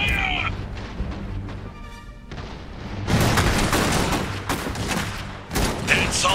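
Battle sounds in the strategy game Iron Harvest: dense, continuous gunfire and booming blasts, growing louder midway, with brief voices mixed in.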